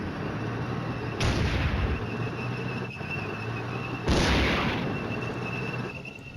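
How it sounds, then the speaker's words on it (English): Tank battle gunfire in the strategy game Flashpoint Campaigns: Red Storm: two heavy booming cannon shots a few seconds apart, each decaying into a rumbling tail over a continuous low background. "It's going to be a big tank battle down here."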